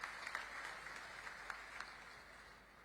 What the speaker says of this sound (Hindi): एक ले जोरदार ताली से स्वागत करो